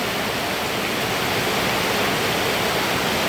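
Rain pours down steadily in a dense, even hiss that never lets up, loud and close, with no voices heard.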